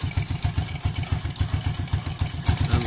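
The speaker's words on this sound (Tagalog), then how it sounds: "Pakinggan nyo, tumataas yung RPM nya." A motorcycle engine idles with a rhythmic, pulsing low thump during carburetor tuning, loud and close with a slight clatter.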